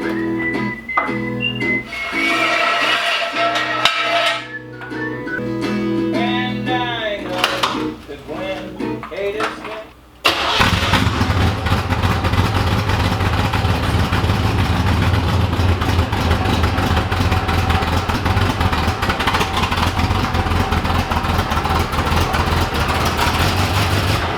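A Chevrolet Camaro IROC-Z engine cranks and catches after some metallic clattering, then settles into a loud, steady, rumbling idle that continues for a long stretch.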